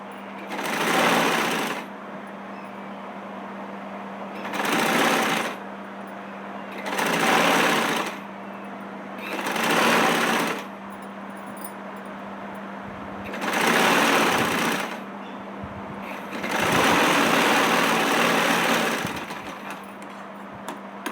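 Short bursts of a sewing machine stitching buckram, six separate runs of rapid, close mechanical chatter lasting a second or two each, separated by pauses with a low steady hum.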